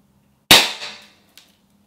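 A powerful airsoft gun fires at sunglasses from about two meters: one sharp, loud crack with a short ringing decay, then a faint click as the pellet strikes. Nothing else is heard.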